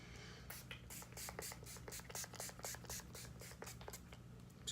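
A setting spray bottle spritzes repeatedly, a quick series of short airy bursts in an uneven rhythm, close and fairly faint against a quiet room.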